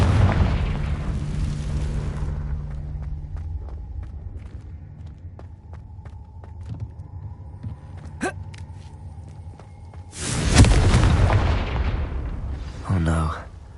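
A Confringo blasting spell explosion in the video game Hogwarts Legacy, a loud sudden burst with a rumbling roar that fades over a couple of seconds, following quieter footsteps and ambient game sounds.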